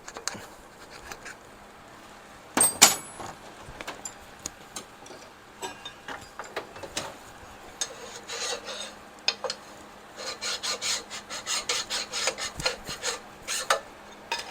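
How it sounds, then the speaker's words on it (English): A fine file rasps over high spots on a Shovelhead intake gasket, rhythmic rubbing strokes that come in bursts and grow busier toward the end, close and fairly quiet, with a sharp metallic clink early on. "I might actually take a file to this"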